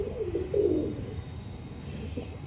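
An old Salara (Kalpara) breed pigeon, a standout male, gives a soft, low coo close by, with a brief swell of cooing early on and quieter murmurs after.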